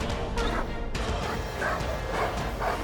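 Repeated yelping barks and whines from a dog during bite training, several short cries spread through the clip over steady background noise.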